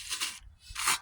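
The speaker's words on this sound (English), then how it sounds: "scraper and clean all this junk out of here" A metal scraper rasps across a charcoal grill, scraping out old debris in two short, harsh strokes separated by a brief pause, close and fairly quiet.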